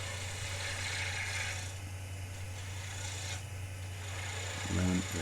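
A 3/8 inch bowl gouge takes down the tenon of a long-dried wooden bowl spinning on a lathe, a quiet, continuous scraping hiss over the machine's steady low hum.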